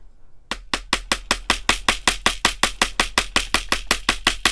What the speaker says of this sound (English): And I'm just hammering